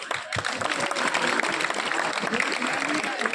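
An audience at a bird festival event claps steadily throughout, a dense and continuous round of applause with voices mixed in.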